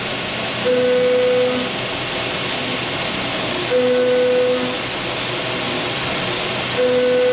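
A belt grinder hand grinding a satin finish onto metal gives a steady, loud whirring hiss that rises in pitch three times as the workpiece is pressed against the belt.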